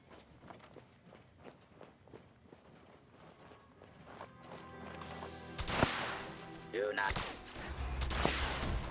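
Gunfire from a shotgun in the video game Fallout 76, with several sharp, loud blasts late in the clip following a stretch of rhythmic in-game footsteps and scattered clatter.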